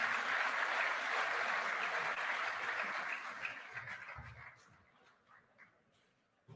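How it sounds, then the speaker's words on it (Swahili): Loud crowd applause at a government digital services launch at KICC, Nairobi, Kenya, dense and steady at first, then thinning out and fading to scattered claps. "Tuwapigie makofi hao wadosi jamani."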